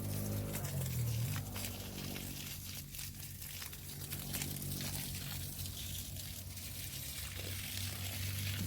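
Irrigation water runs and trickles through a grape vineyard while a low, steady pump hum sits underneath, with soft crinkly splashing and moderate loudness throughout.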